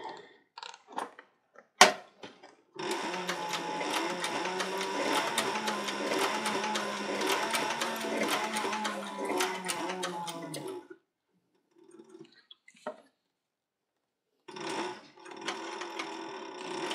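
A sewing machine zigzag-stitches a leather bandolier, with a few separate clicks and taps, then a long steady run of rapid mechanical stitching, a pause with scattered handling sounds, and a second shorter burst.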